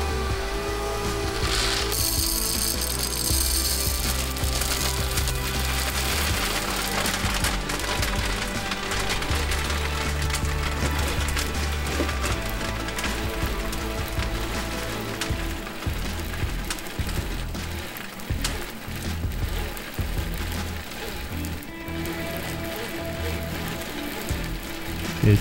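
A grain mill set to a wider gap grinds conditioned malt at slow RPM, a close, continuous crunching and rattling that chugs along laboriously with irregular clicks and no talking.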